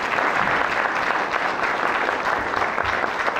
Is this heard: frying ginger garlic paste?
no